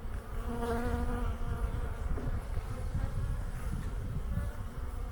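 Honeybees drone in a steady, continuous buzz around an open hive while the beekeeper inspects frames of eggs and brood after making a swarm split, a dense close hum with no talking.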